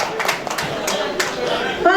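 Audience applause at a Hindi comedy poetry gathering, a steady wash of many hands clapping mixed with crowd murmur, fairly loud and continuous, with a brief voice near the end.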